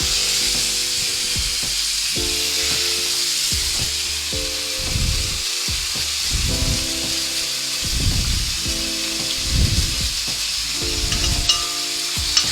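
A reverse-seared rib eye steak frying in a pan with miso butter, loud close sizzling with repeated bursts of spattering and stirring or basting sounds over a low steady hum, no talk.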